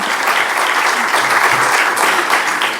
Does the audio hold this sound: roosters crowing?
no